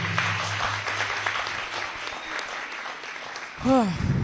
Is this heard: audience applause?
yes